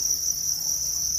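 Crickets on a cricket farm keep up a dense, steady high chirping, close and continuous with no pauses and no voices.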